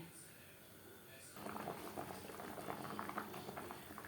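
Thin Bengali-style rui fish curry with potatoes boiling in a pot, a steady bubbling simmer that swells louder partway through and continues close and even, with no talking.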